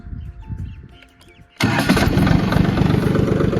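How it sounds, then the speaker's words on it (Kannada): A pause of quiet mechanical ticking, then the diesel engine of a Powertrac Euro G-28 4WD mini tractor suddenly cranks by key and catches, settling into a loud, steady chugging idle close by. "ಈ ಟ್ರ್ಯಾಕ್ಟ್ರನ್ನ ಕೀಲೆ ಸ್ಟಾರ್ಟ್ ಮಾಡಿ ಕೀಲೆ ಆಫ್ ಮಾಡ್ಬೋದು"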